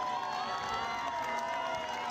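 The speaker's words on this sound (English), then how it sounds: "the crowds are lining the streets over this final kilometre" Crowds lining the streets cheer along the final kilometre of the Málaga marathon, a steady dense roar of voices and shouts that holds at a constant level throughout.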